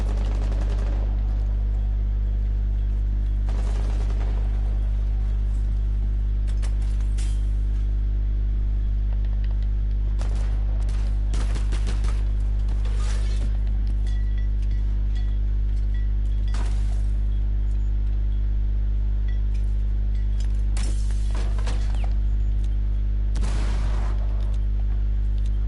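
Bursts of gunfire crack out during a tactical Rainbow Six Siege match, scattered volleys and single shots spread across a steady low engine-like hum, some loud and close, others fainter.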